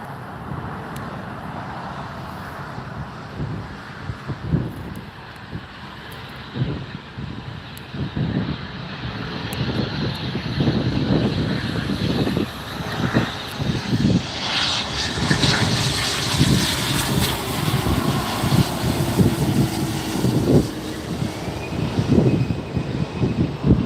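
Airliner on arrival approach at Los Angeles International Airport, a steady engine roar that swells over the clip with broadband jet noise, heard close and fairly loud against ongoing airport background.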